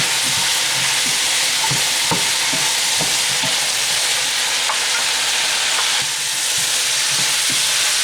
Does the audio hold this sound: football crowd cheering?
no